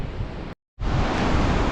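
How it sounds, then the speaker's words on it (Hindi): Cold wind sweeping through high mountains beside glaciers, a steady loud broadband roar with a brief drop to silence partway through before the gusting rush resumes, no voices. "इन ग्लेशियर्स की वजह से, और ये जो ऊपर बादल हैं इनकी वजह से बड़ी ठंडी यख हवाएं यहाँ पे चल रही हैं"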